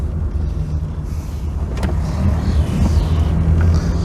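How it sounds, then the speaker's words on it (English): Steady low engine rumble from a driving MK2 VW Scirocco with worn engine mounts, a faint repetitive knock riding under the continuous drone, close and fairly loud with no voices. "That's a pretty disconcerting knocking noise."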